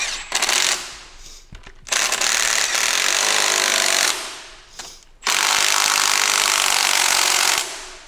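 A small impact gun rattles loudly in two long bursts, tightening bolts on a Peterbilt 379 truck, with a brief spin-up between them and no talking.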